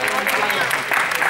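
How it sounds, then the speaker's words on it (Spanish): Short burst of crowd clapping for the third-place team, the Tréboles, at a Game of Thrones-themed competition, dense and steady throughout with voices mixed in. "Un aplauso."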